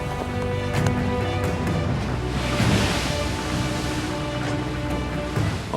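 Ocean waves wash and roar around a fishing boat at sea, a continuous loud rushing swell with a low rumble underneath, steady with no speech.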